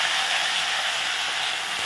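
Black cumin seeds sizzling in hot oil for tempering, before potato, eggplant and flat beans go into the pan. A loud, steady, even hiss runs throughout with no pauses, and no voices are heard.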